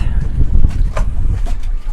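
Heavy low rumbling buffets of wind hit the microphone continuously aboard a sailboat, loud and close, with faint splashes or creaks mixed in.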